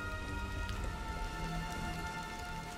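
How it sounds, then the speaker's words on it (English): Steady rain falls in the video game Valiant Hearts, a continuous soft patter of drops under a faint rumble, with no talking. "It's raining."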